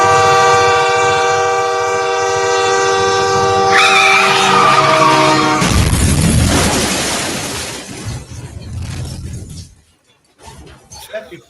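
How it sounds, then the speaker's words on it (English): Train sound effect in a comedy sketch: a sustained train horn blares, then a loud crash with shattering debris and rumble, fading to near silence at the end. "Is that a train?"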